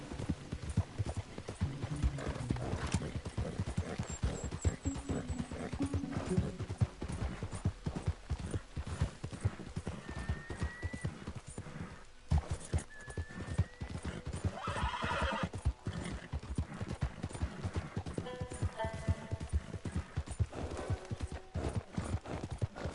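Horse hooves clip-clop steadily through a long stretch of riding in Red Dead Redemption II, with occasional neighs and whinnies and other game sounds layered over the continuous rhythmic footfalls.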